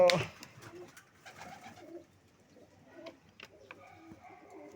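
Soft, low pigeon coos repeat faintly among quiet rustles and small background sounds, with a brief louder noise at the start.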